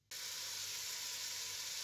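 Garlic hits a hot pan for a traditional fish stew and sizzles at once, a sudden loud onset settling into a steady close frying hiss with no talk.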